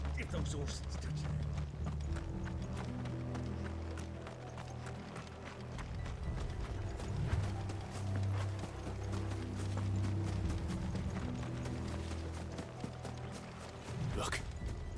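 Horses gallop in the video game Final Fantasy XVI, a steady clip-clop of hooves running beneath a loud mix of music and game sound throughout.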